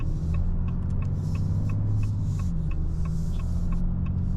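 Interior of a 2025 Ram 2500 Cummins diesel pickup driving in first gear out of tow haul mode, with a steady low engine drone and rumble and a faint regular ticking above it.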